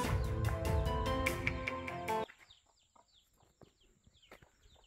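Hens with their chicks in a village on the way to Kothaligad fort near Karjat, Raigad, in the monsoon. Music plays for about two seconds and then stops, leaving faint, scattered high chick peeps.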